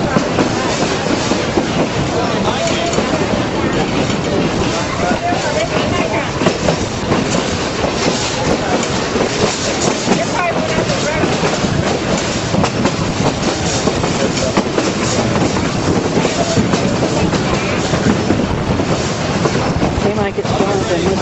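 A Durango and Silverton railroad train rolls along with a loud, continuous rumble and rhythmic clickety-clack of wheels on track, heard from on board.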